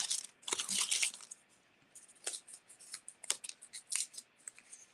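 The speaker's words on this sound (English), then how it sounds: "I have one more name to draw" Slips of paper in a prize draw rustle and crinkle as a hand digs through them, a busy burst of crisp scraping followed by a string of shorter, sharp crackles.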